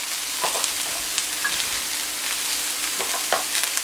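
Small vegetables with red pepper grilling in a hot pan, a steady bright sizzle and crackle running throughout with light stirring scrapes, close and continuous with no voices.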